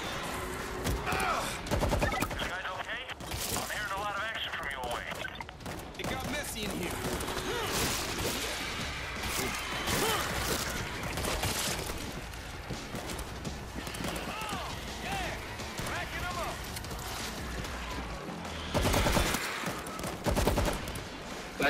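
G3 rifle gunfire in the zombie shooter World War Z Aftermath, with rapid shots and bursts running through the whole stretch amid game noise, under near-constant talking from a player.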